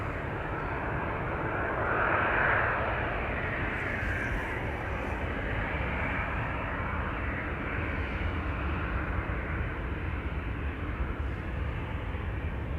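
A KLM Boeing 737-800 departing Amsterdam Schiphol, heard as a steady, broad jet-engine roar at moderate distance that holds constant and swells slightly early on, with no voices.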